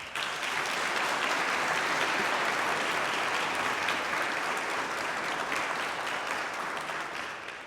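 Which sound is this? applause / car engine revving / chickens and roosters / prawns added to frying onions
applause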